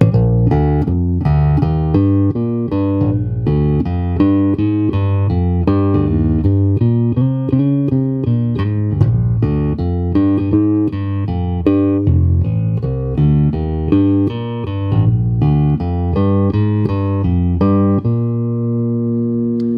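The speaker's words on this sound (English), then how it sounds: "When you activate this button right here, it adds a little boost, and this is what that sounds like." A 1983 Fender Precision Jazz hybrid electric bass with its boost switch on plays a continuous, punchy melodic line with thick low end and bright plucked attacks, ending on a sustained note.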